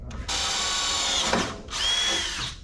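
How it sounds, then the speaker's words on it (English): A power drill bores into the steel frame of a 1972 Chevrolet C10 pickup, two sustained whining runs close by, with a brief pause and a pitch dip between them. "we'll probably need to drill the frame side 7/16 just to give us extra room"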